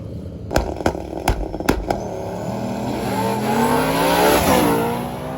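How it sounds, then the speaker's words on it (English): A stick-shift Camaro hot rod launches in a drag race: several sharp engine blips and pops, then a loud rising rev climbing through the gears and swelling as the car pulls away, with no voices. "we gotta talk about this Camaro, man. This thing does gnarly wheelies."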